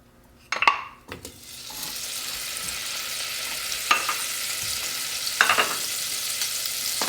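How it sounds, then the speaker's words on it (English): Butter sizzling as it melts in an Instant Pot on sauté, a steady close frying hiss that starts after a couple of clunks from the pot and lid, broken later by a few light metallic knocks. "so we're going to put our butter in."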